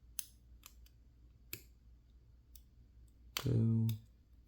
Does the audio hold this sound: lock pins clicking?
yes